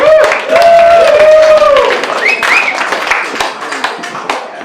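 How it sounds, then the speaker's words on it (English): Wedding guests clap for someone called up to the microphone, a brief burst of applause mixed with excited cheering and shouts that tapers off after a few seconds. "Give Reese a round of applause for me"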